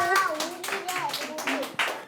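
Children clap in rhythmic bursts during a kids' play-and-learn storytelling session, roughly evenly spaced, close and lively, with voices talking over the clapping.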